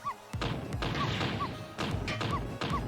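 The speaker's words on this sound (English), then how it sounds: "The neighbor pounds so loud on the wall that a lamp falls over." A lamp topples and crashes in the Ghost Trick puzzle game amid heavy pounding on a wall: several loud, dull thumps and a smash repeat over about three seconds, with faint dog yips between them.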